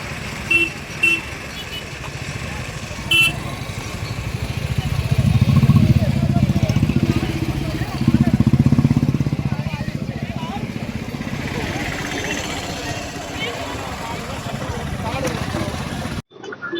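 A motorcycle engine rumbles steadily close by at a TVK political party conference in Madurai, swelling louder for a few seconds before settling back, with voices faintly mixed in.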